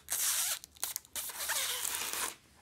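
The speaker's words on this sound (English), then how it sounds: "this is the moment where I peel back the plastic film over here" Protective plastic film being peeled slowly off the grippy edge and brushed metal surface of an Arc Premier digital kitchen scale, a close, crisp tearing crackle in several bursts with brief pauses, no talking.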